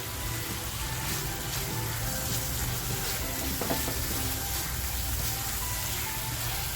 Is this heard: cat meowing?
no